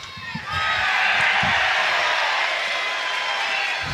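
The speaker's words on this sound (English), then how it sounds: "And all the cheer you're hearing is from those in green and red." Loud, sustained roar from a crowd of supporters at a Dublin senior hurling final between Naomh Barróg and St Oliver Plunketts/Eoghan Ruadh, swelling after a brief moment and holding steady across the stands.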